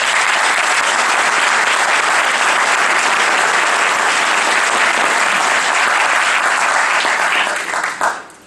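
A conference audience applauds loudly and steadily in a hall, a dense wash of clapping that carries on unbroken for several seconds before tapering off at the end.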